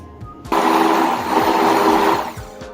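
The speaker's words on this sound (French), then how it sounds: "mixer les pommes qui ont rôti doucement avec le kiwi et de la vanille" A blender purees slow-roasted apples with kiwi and vanilla, its steady motor whirring loudly and evenly for about two seconds after a brief start-up, then cutting off.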